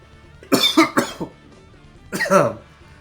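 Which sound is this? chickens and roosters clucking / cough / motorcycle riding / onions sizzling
cough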